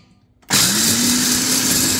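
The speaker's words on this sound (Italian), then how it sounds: "prendiamo 50 grammi di arachidi e li andiamo a tritare, non a farina, leggermente a tritare" A kitchen chopper or small electric mixer starts abruptly and whirs steadily at high speed, coarsely chopping 50 grams of peanuts for chocolates with wafer, loud and close after a brief quiet moment.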